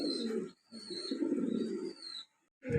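A pair of Lahori pigeons coo in soft, repeated throaty phrases with brief pauses between them, close and fairly quiet, with no talking.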